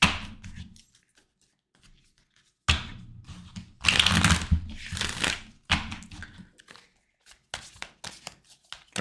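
Tarot cards shuffled by hand in bursts of quick riffling and slapping, close and crisp, separated by short pauses, with no talking over them.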